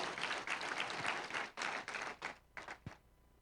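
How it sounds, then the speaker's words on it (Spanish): A church congregation during a service gives a burst of applause, dense at first and then thinning into scattered separate claps that die away into quiet. "Ese aplauso es para el Espíritu Santo"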